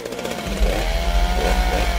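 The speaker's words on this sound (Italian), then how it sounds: "Motosega." A chainsaw in a video game starts abruptly and snarls with a loud, buzzing drone for about two seconds.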